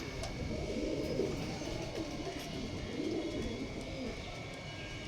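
Kalsira pigeons, males and females, coo softly in a repeated low, rolling rhythm over a faint steady background hum.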